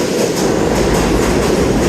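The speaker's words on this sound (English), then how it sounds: "we're going to be heading to Brooklyn via the L train, which is part of the Legacy IND Independent Line" A New York City subway L train rides along the rails, a loud, steady roar and rumble with a faint rhythmic clatter heard from inside the car, with no talking.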